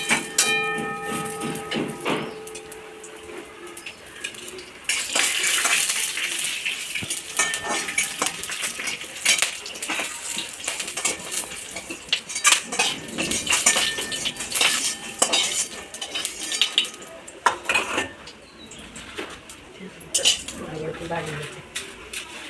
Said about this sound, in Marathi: त्यात थोडं तेल टाकून घेते, म्हणजे तेलाने छान भाजलं जातात मसाला.